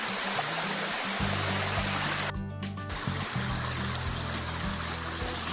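Water flowing down a hillside stream, a steady broadband rush that stays loud the whole time, broken for a moment by a short cut in the sound, with low rhythmic thumping underneath.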